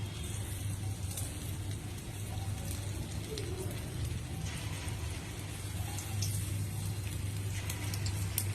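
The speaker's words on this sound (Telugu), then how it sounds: "ఇప్పుడు బయట వర్షం వస్తుంది కదా" Steady rain falls outside, a constant wash of patter with a low background hum, continuous and even throughout.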